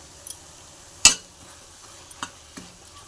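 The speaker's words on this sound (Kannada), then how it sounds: "ಈಗ ಸೊಪ್ಪೆಲ್ಲ ಈಗ ಇದಕ್ಕೆ ಒಂದು ನಿಮಿಷ ಮಿಕ್ಸ್ ಮಾಡ್ಕೊಳ್ಳೋಣ" A spoon stirs spinach leaves into dal in a pan with a few separate scrapes and clinks, one sharper knock near the middle, over a faint sizzle and no talking.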